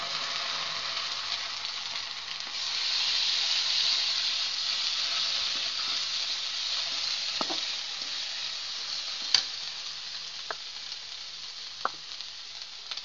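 Garlic, ginger and garam masala paste fry in a pan over already-browned onions, giving a steady close sizzle and hiss with a few sharp clicks of a utensil against the pan, no voices.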